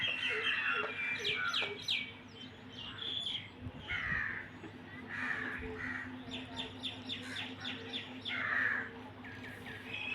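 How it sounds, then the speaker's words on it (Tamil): Several birds call from nearby trees, crow caws mixed with short chirps and tweets in repeated bursts over a steady low background hum. "அந்த மரத்தில் ஒரு பறவை இருக்குது."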